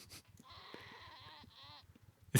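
Sheep bleating in the online role-playing game Ultima Online Outlands: a long, wavering nasal bleat with harmonic layers, close and prominent for about two seconds, ending in a sudden loud burst.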